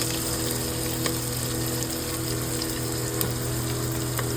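Chopped onion fries in hot oil with cumin seeds, curry leaves and chillies for dal khichdi, a steady, close, bright sizzle that hisses continuously without pause and with no talking.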